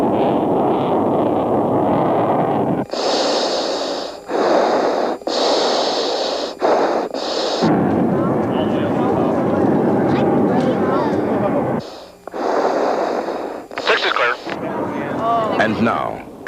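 A General Dynamics F-16 of the Thunderbirds team climbs at full thrust at an air show. Its heavy, loud broadband jet roar surges and drops in long waves, with a few brief breaks.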